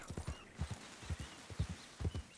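Horse hooves in the video game Red Dead Redemption 2 clip-clop at a steady trot, soft and fairly close, in quick rhythmic groups.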